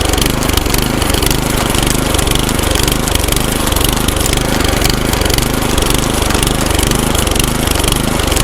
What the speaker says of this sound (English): Tiller's just barely touching the dirt.